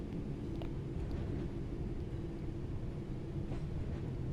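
Six-carriage passenger train in Train Sim World 5 on the Redditch to Four Oaks line nearing Longbridge Station, a steady low rumble of running gear and motors continuing unbroken with no voices.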